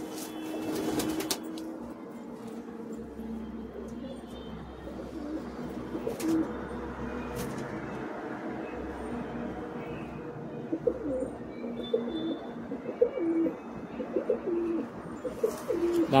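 Madrasi pigeons, a breeding flock of high-flying birds, coo softly and repeatedly in a loft near Kolkata, with low murmuring calls overlapping steadily against a faint background hum.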